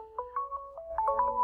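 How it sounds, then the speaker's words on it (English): A phone rings with an incoming Google Hangouts call, playing a steady tonal melody of short stepped notes, clear and fairly close, with no voices over it. "it's ringing on my phone, so I'm going to answer it."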